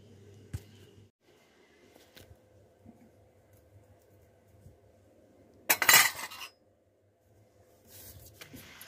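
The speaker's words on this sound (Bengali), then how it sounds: "থালা বাসন মেজে টেজে নিয়ে আমি ধুয়ে চলে এসেছি" Metal utensils, plates and pots clink and clatter as they are washed in a home kitchen, with a sparse quiet background broken by one dense burst of scraping and rattling near the end.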